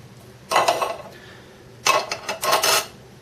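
A spoon scrapes and clinks against a pot while chickpea curry is mixed, in two short bursts of stirring separated by a quiet pause.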